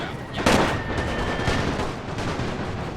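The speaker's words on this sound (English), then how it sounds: "I love that artillery, guys. Absolutely exploding all over the damn place." Artillery fire in Napoleon: Total War, played with The Great War mod: a loud sharp blast, then another crack about a second later over a constant rumble of distant battlefield gunfire.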